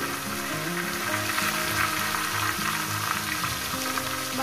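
Catla fish heads frying in hot oil in a pan, a loud steady sizzle and crackle running continuously close up, with a low background hum and no talking.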